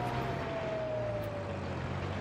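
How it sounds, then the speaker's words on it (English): A siren from a distant vehicle in Farming Simulator, set in a cold Alaskan winter map, sounds as a thin, steady wail that drifts slightly in pitch over a constant low engine rumble, with no talk. "Like a siren."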